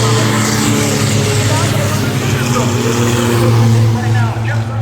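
Race cars roaring around Lee USA Speedway during an Oktoberfest Six Shooter feature: a steady, loud, layered engine drone from several cars running together, holding a constant pitch with slight swells as they pass.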